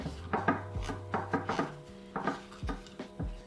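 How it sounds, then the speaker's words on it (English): Butter being spread across the bottom of a baking dish for Danish scalloped potatoes: repeated close scraping and rubbing strokes with soft knocks against the dish, in an uneven rhythm. "I have a little bit of butter and I'm going to butter the bottom of our dish."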